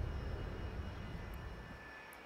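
An airplane engine drones in the SimAirport airport-building video game, a faint, steady roar that holds throughout with no voices over it.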